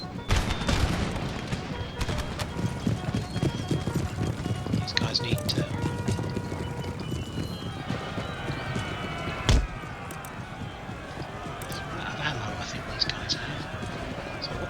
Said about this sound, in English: I think his cav did come forwards. Another regiment of horse.